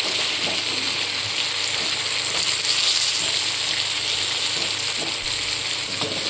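Potatoes frying in a pan with a loud, dense, steady sizzle throughout, with faint scraping stirs and no talking.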